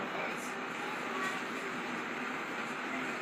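A steady broadband rumble of a train rolling past in Italy, continuous and fairly loud throughout, with faint voices mixed underneath.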